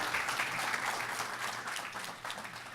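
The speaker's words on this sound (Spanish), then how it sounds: "Un aplauso" An audience at a public forum on corruption in Cúcuta, Colombia, claps steadily for a few seconds at moderate volume in a hall.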